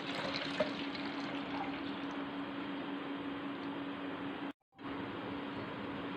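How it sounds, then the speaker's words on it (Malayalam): Strained bael fruit juice poured into a jar, a soft continuous trickling splash that stops briefly near the end and then resumes, quiet and close with no talking. "ഇനി നമുക്ക് ഈ ജാറിലോട്ട് ഒഴിക്കാം."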